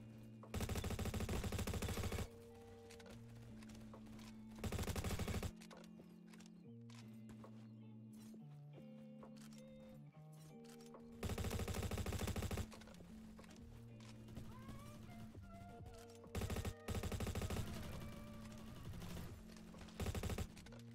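Gunfire in the Roblox shooter game Bad Business, several loud rapid bursts of automatic fire separated by stretches of game music and effects, no talking.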